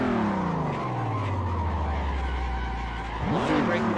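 A car drifting in Assetto Corsa sends out a loud, sustained tire squeal, its pitch sliding downward as the engine drones underneath, then a fresh burst of revving and squealing near the end.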